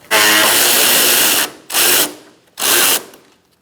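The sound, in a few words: 10mm socket removing a bolt on a Mazda 3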